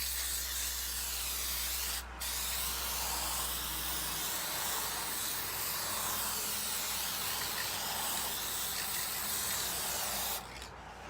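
Aerosol can sprays paint outdoors in a steady, close hiss that runs almost unbroken, with two brief pauses, as a light coat goes onto window glass on a windy day.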